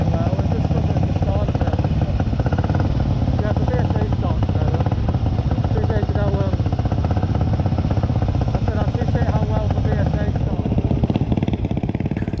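An Indian Velo 500 single-cylinder motorcycle idles with a loud, steady, thumping exhaust that runs unbroken and dominates throughout.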